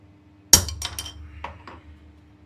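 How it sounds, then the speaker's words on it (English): A heavier hammer strikes hot metal while a dagger is forged, one sharp ringing blow followed by a few lighter rebounding taps, close and alone in a quiet workshop. "This time maybe a slightly heavier hammer."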